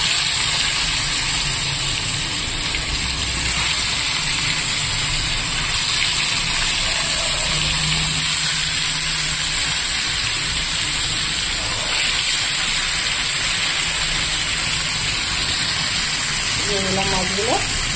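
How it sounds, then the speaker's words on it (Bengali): Small China puti fish frying in hot oil in a frying pan, a steady loud hiss and sizzle running continuously throughout with faint background sounds. "ফ্রাইং প্যান গরম হয়ে গেছে, এবার আমি মাছগুলো দিয়ে দেব।"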